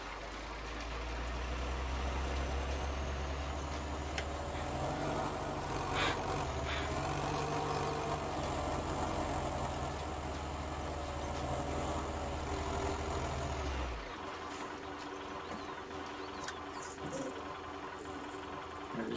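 Farm tractor engine running steadily during spring drilling in a field in 1961, a loud low droning rumble with slight vibration that cuts out abruptly near the end, leaving quieter background.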